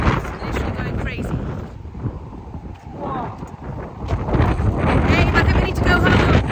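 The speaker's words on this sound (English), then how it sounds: "it is mega, mega windy." Heavy gusts buffet the microphone in a constant low roar, rising and falling, with a voice briefly audible through the rumble.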